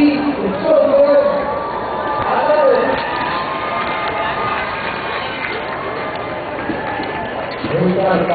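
A large, excited crowd cheers and chatters steadily at a sports celebration in Boston for the Philadelphia Phillies, with a broad roar that swells at moments, and someone talks over it.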